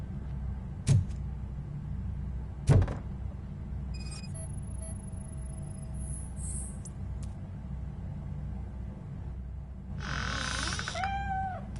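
A cat meows in the RoboCop video game, a short rising cry near the end, after two sharp thumps and some electronic beeps over a low background rumble.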